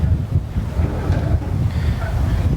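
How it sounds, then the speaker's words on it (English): Steady wind buffets a golf course in a continuous low rumble with broadband gusts through the whole stretch, loud and close as if hitting the microphone, with no talking. "There's a lot of wind right to left."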